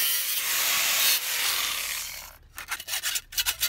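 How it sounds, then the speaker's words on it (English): Hand file rasping along the cut edges of a metal gusset, a long continuous scrape followed by a quick run of short rhythmic back-and-forth strokes, close and loud with no talking. "And we can quickly file those"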